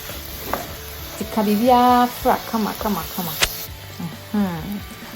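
Stirring spices into chicken gizzard fried rice in a hot pan, with scraping spoon strokes over a steady sizzle of frying, interrupted by short bursts of talking from a nearby voice.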